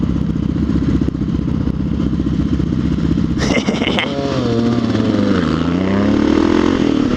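Nearby motorcycles rumble loudly in traffic, one engine revving with a sharp rise and pitch sweeps over a steady idling throb, heard from another rider's bike.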